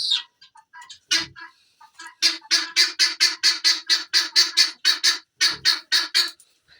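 A pheasant gives a loud, close, rapid chattering run of sharp calls, with a few scattered calls before it and a brief pause near the end.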